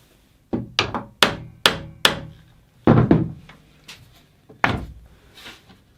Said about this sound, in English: I'm just going to tap with a lump hammer this whole assembly across a little bit